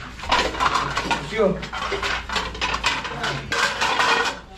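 A metal cooking pot clatters and scrapes in a busy burst of metallic knocks and rattles. Several people talk and call out over the clanging.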